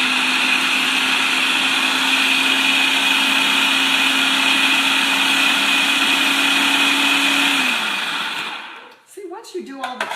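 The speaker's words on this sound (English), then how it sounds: "now we can try and blend them" A kitchen blender runs loud and steady, chopping carrots for an artichoke burger, then winds down and stops near the end with a few faint clatters after.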